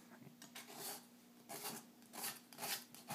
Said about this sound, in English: So how I'll do that is with my palette knife.